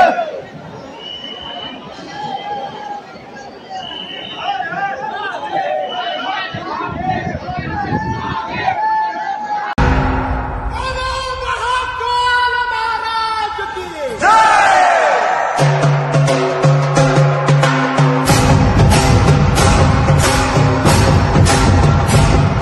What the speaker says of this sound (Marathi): इथं खूप सारी गर्दी आहे